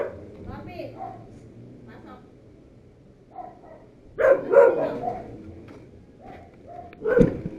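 Dogs bark in a few sharp bursts close by, mixed with a voice speaking over a quiet background.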